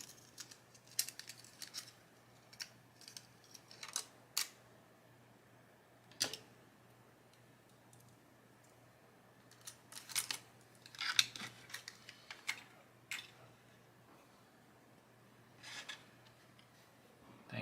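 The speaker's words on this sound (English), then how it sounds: "Putting a new blade on the X-Acto. That one is too dull." A new blade is fitted to an X-Acto craft knife, replacing a dull one at a diorama crafting desk. Faint, sparse metallic clicks and small taps come at irregular intervals over a quiet background hum, close by and with no talk.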